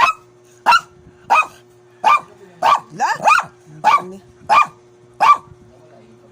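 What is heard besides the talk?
dogs barking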